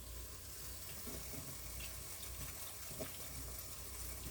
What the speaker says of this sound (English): I'm going to give my hands a quick washing.